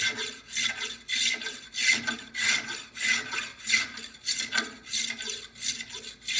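A wooden pole is shaped and smoothed by hand, removing curves and saw marks with a rasp. The rhythmic, close-up strokes repeat about every half second, each a scratchy rubbing burst, with no talking.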